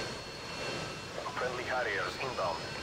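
Harrier jet killstreak from Modern Warfare 2 flying over a Highrise Domination match, a steady jet engine roar that swells near the end, heard under continuous game noise and a talking voice.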